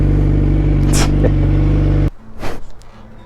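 A 2006 Yamaha FZ1 motorcycle idles with a steady low engine hum and brief revs, then cuts off abruptly partway through as it is parked, leaving quiet clatter and rustling afterward.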